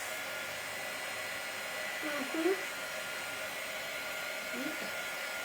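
A hair dryer drying paint on a glass jar gives a steady, even blowing whir throughout, with faint brief voice sounds partway through.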